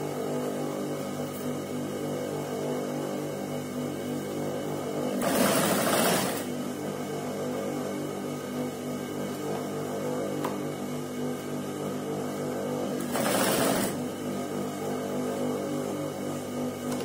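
Sewing machine stitching piping onto a neck design, a steady close mechanical whir running throughout with two brief louder rustling bursts as the fabric is shifted, no voices.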